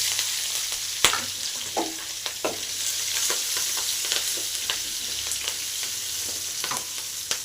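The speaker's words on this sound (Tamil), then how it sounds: "இப்போ எண்ணெய் காஞ்சிச்சு கறி போட்டுடலாம் இப்போ நல்லா பொரியட்டும் பச்சை மிளகா போட்டுடலாம்" Green chili and garlic fry in hot oil for a Tamil pumpkin-leaf stir-fry, a steady close sizzle with scattered pops and crackles throughout, and no talking over it.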